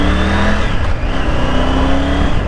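A 2023 Triumph Tiger 900 motorcycle pulling away at half throttle in a 40 zone, a loud, close, steady engine drone with rising harmonic tones as it accelerates, no voices.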